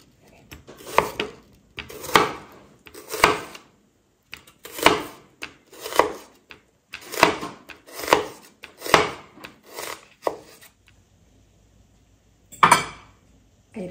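Red onion sliced with a knife on a wooden board, a run of about a dozen crisp, evenly spaced cuts close up, then a pause and one last chop.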